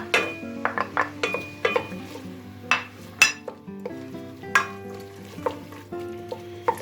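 Onions and carrots sautéing in melted solid fat in a pan, with a steady sizzle broken by repeated clinks and scrapes of a utensil stirring against the pan, close and clear with no talk.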